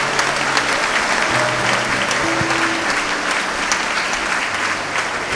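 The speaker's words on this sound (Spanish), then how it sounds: "Un aplauso a los actores." Applause for actors at a gathering, a dense, even wash of clapping sustained for several seconds with a low murmur beneath.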